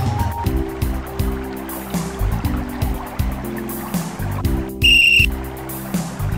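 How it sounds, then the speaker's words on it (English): In the Simon the Sorcerer video game, a magic whistle gives a short bright shrill blast near the end, set against looping game music with low sustained tones and plucky notes. "It's a magic whistle."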